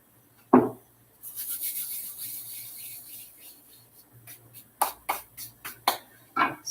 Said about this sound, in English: I like to grind it up between my hands like so.